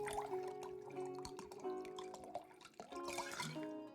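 A drink is poured in the video game Card Shark, a quiet liquid trickle with dripping and gurgling, heard against layered tonal game music throughout.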